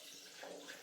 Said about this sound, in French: Ça bouillonne, on l'entend.